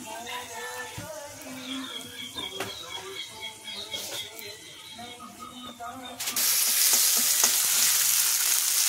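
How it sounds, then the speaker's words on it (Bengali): Bay leaf, dried chili, curry leaves and garlic crackle and sizzle in hot oil for a fish kalia, with stirring scrapes, then the sizzle jumps to a loud, steady hiss near the end. "তেজপাতা, শুকনো লঙ্কা, কারি পাতা, রসুন ফোড়ন দিব।"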